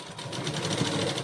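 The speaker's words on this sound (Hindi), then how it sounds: "इस तरह से इस कपड़े को ऐसा मोड़िए और ऐसे चला दीजिए सिलाई" A sewing machine stitches along a fold of cloth with a steady, close, rapid mechanical whir and a fine pulsing rhythm throughout.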